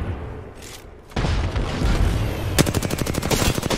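Video game firefight in a squads match with loud gunfire: a sudden burst of shots, then rapid automatic fire rattling in quick succession, with booming grenade-like blasts mixed in.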